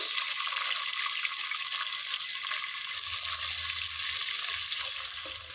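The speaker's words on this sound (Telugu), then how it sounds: "ఆనియన్ మిర్చి ఫ్రై అయింది" Sliced onions and green chillies frying in oil in a pan, a steady close hiss of sizzling with a faint low rumble joining partway through.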